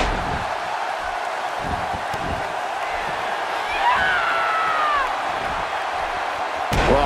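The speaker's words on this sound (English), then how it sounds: "And listen to this San Jose crowd. They are so incredibly passionate about their WWE action," A San Jose arena crowd in the WWE 2K18 wrestling video game roars continuously at a match, a dense wash of cheering with a brief slam and whoops, fairly loud throughout.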